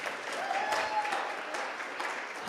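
An audience applauds at the close of a talk, a steady wash of clapping from many hands that holds evenly throughout, moderately loud, with no voices.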